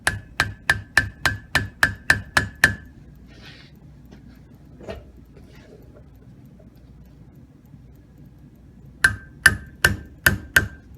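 A hammer taps a bearing on a Gravely tractor starter clutch: a quick run of about nine sharp metallic taps, a long quiet pause with faint handling noise, then another brisk burst of five or six taps.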